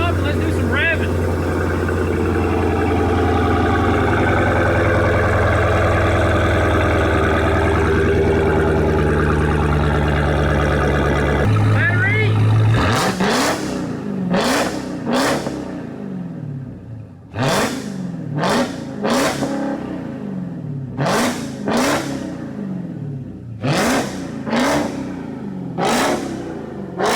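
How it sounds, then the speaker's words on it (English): Dodge Hellcat Redeye engine idling with a steady rumble as it warms up, then a rebuilt V8 blipped in a series of sharp, loud revs that climb and drop repeatedly, close by. "Let's let it warm up and let's do some revving."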